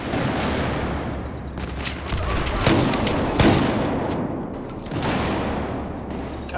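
Repeated shotgun blasts and surrounding gunfire in Battlefield 4 close-quarters Conquest on the Operation Locker map, loud and dense with booming reports over a steady low rumble, several heavy bursts spaced across the stretch.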